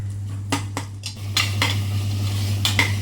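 Chili powder simmering in oil for paneer biryani, stirred in a pan: a steady low hiss of oil runs throughout while a spoon repeatedly scrapes and clinks against the metal pan in quick irregular strokes.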